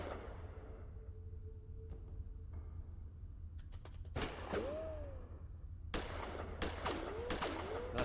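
Gunshots in the Gemini Rue video game: a few sharp, separate cracks ring out over a low steady hum, with short electronic tones between them.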